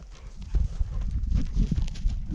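A ridden horse walks through schooling exercises, its hooves striking the ground in a steady, close clip-clop rhythm of repeated footfalls with no talk over them.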